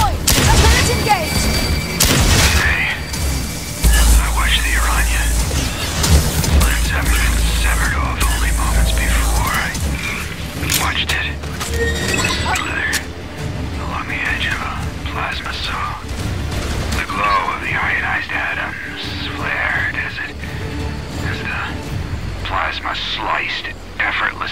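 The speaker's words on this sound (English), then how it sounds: "Turret deployed! A turret engaged!" A deployed turret fires in the video game Firefall, with repeated booming shots and mechanical clatter that echo amid combat noise, while a voice talks over much of it.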